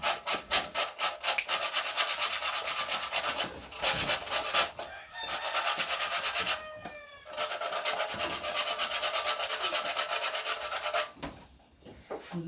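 Arrowroot being grated for porridge gives a rapid, rhythmic rasping scrape that stops briefly now and then, while a rooster crows faintly in the background.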